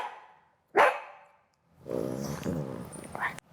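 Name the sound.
dog barking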